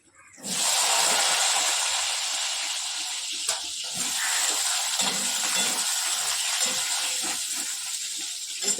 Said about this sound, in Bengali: তেল গরম হয়ে গেছে আলুটা দিয়ে দিই